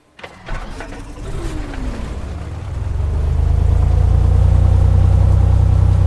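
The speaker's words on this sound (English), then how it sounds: "Now we will actually run the ignition. We're going to click this, we're going to move the mouse to the right, and when the engine fires" A Cessna 182 Skylane piston engine starting in a flight simulator: a starter whine and cranking give way to the engine catching, then a loud, steady low rumble that builds and settles into a rough idle.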